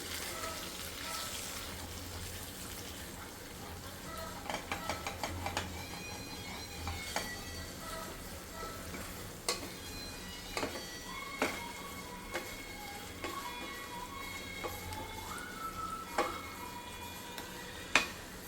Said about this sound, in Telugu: బాగా ఫ్రై అవనిద్దాం ఇది. సో కొద్దిగా బటర్ కూడా వేసి బాగా కరగనిద్దాం.